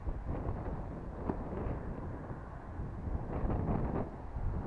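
Steady outdoor wind rumbles and buffets close to the microphone around an effervescent rocket launch site, a continuous roar that swells slightly toward the end, with no voices.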